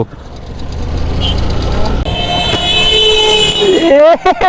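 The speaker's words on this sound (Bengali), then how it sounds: "সিএনজি হর্ন বন্ধু সবার আগে হর্ন পাল্টাও" Traffic rumbles steadily, then a CNG auto-rickshaw horn toots loudly in a few quick, warbling bursts near the end, close by.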